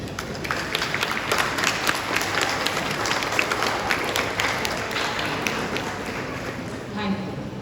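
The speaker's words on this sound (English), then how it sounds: "extend a very warm reception through a standing ovation and a huge round of applause" Loud, sustained applause from a large audience at an Independence Day celebration, dense clapping with sharp individual claps standing out, holding strong and steady from start to finish.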